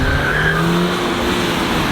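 An Audi A5 with a roughly 220-horsepower four-cylinder engine hums steadily from the cabin, with a constant road and engine drone throughout.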